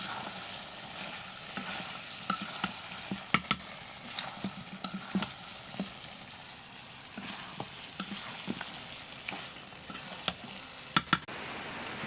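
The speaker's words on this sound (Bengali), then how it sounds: "এই যে মাংসগুলো এখন আমি কষাচ্ছি" Meat and five medium garlic cloves sizzle and fry steadily in a pan while being sautéed for a curry, with a continuous crackle broken by sharp scrapes and stirring clicks of a spoon against the pan.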